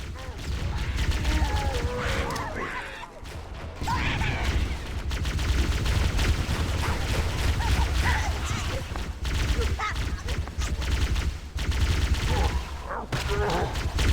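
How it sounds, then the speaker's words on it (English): Grenade blasts and sustained gunfire in a video game, a dense, loud, continuous barrage of shots and explosions with short dips, and a player's voice faintly under the din. "let's just chuck some grenades, see if that does anything"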